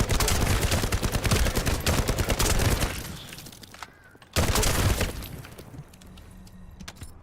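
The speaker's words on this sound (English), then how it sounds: "this assault rifle is definitely feeling like what we want to be using" Rapid assault rifle fire in The First Descendant rattles loud and dense for about three seconds, drops to a quiet lull, then bursts back hard before trailing off into scattered lighter shots.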